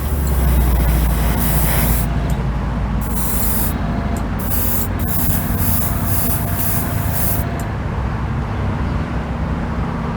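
A spray gun lays down a chrome base tack coat on a custom motorcycle part, giving a continuous loud hiss close by with brief pauses between passes.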